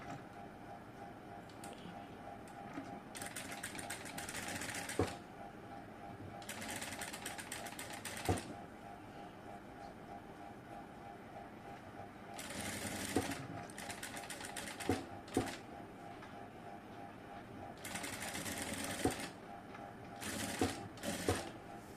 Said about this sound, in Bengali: সেলাইটা করা যায়